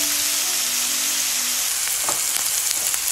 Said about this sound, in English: I just fry my mushroom for a few minutes